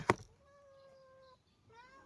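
A hungry pet cat named Mingming gives a quick thump and then two clear, drawn-out meows close by while people sit down to eat, the cries fairly quiet against a hushed room.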